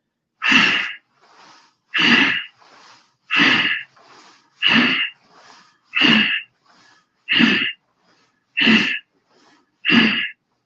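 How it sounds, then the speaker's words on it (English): Eight forceful, sudden exhalations in a breathing exercise burst out at an even rhythm about every one and a half seconds, each sharp and loud, separated by softer inhaled breaths. "And now bring them down suddenly by breathing out."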